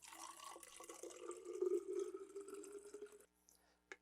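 Water pouring into a HydraPak Recon water bottle, a steady close trickling fill that gurgles louder midway, then stops abruptly near the end.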